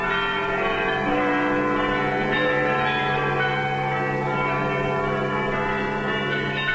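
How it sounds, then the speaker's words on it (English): Church bells in Britain ringing together, a dense, continuous wash of overlapping metallic tones that stays loud and steady throughout with no voices. "Once more, the people of Britain heard their church bells ring."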